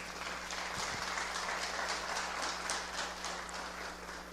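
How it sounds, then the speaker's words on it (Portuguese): A church congregation at a family worship service applauds, a continuous wash of many hands clapping at a distance, soft and steady over a faint electrical hum, with no voices. "aplauda Ele mais uma vez"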